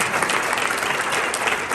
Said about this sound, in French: Et vous pouvez tous vous applaudir.